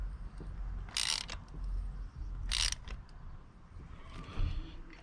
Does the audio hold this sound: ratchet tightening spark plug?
yes